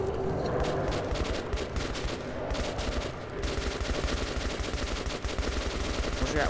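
Sustained gunfire in the video game Metro 2033 Redux, dense rapid bursts like machine-gun fire crackling almost continuously with short pauses, loud and close.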